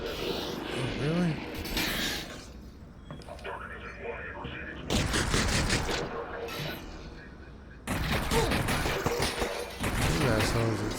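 Bursts of enemy gunfire come in several loud clusters separated by quieter gaps in Half-Life: Alyx, with a person's voice talking in between.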